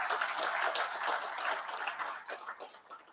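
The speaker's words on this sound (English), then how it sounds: "let's clap for the Ministry of Health" Audience at a conference opening ceremony claps in a scattered, moderately loud round of applause that gradually thins and fades toward the end.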